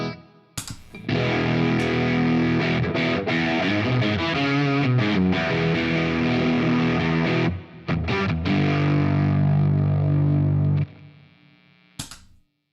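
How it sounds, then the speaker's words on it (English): A heavily distorted electric guitar through a Beetronics Fat Bee overdrive pedal plays sustained chords and riffs with a wash of springy reverb, ending abruptly with a brief tail and a final click. "I definitely want some reverb here. Let's go with a Legacy Spring Reverb."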